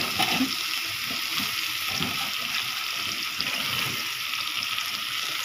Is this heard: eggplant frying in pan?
yes